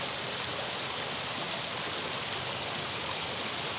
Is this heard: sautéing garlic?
no